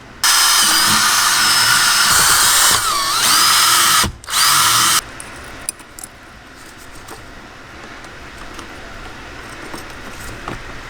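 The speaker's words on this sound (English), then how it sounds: "So now I'm going to just drill into my gas pedal." A power drill whines loudly for several seconds while drilling into a car's gas pedal, pausing briefly and revving again, then stops, leaving faint clinks and rustling.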